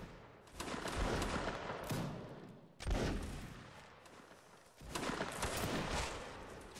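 Massed musket volleys in a Napoleonic Wars line battle game, three loud rolling fusillades of crackling shots a couple of seconds apart, each decaying into a rumbling tail.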